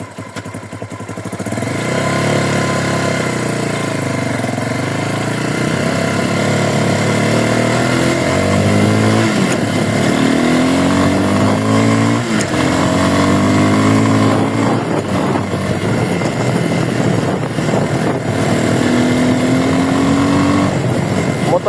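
A Forte Cross 250 motorcycle is ridden with a steady, loud exhaust note that rises and falls as the rider shifts through revs, and the engine drone continues throughout with no talk.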